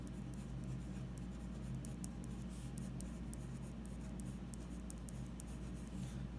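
Writing on a board during an electrostatics lecture, a faint, steady scratching of strokes with small taps, quiet under a low room hum and with no voice.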